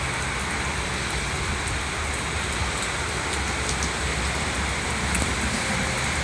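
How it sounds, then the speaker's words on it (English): Steady rain falling and pattering under an awning on a rainy day, with cars passing by on wet pavement, a constant dense hiss throughout with no talking. "make this little video of the rain and the cars going by"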